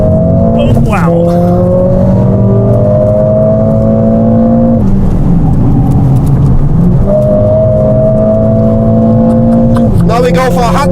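An AMG car accelerates hard on a proving ground, its automatic gearbox shifting up with clear drops in engine pitch, then a lift and renewed acceleration, the engine loud and close inside the cabin.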